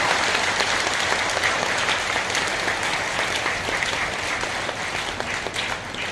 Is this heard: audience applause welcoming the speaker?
yes